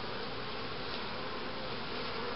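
Honeybees humming steadily at an open hive during a colony inspection before winter, a continuous close insect drone with no talking.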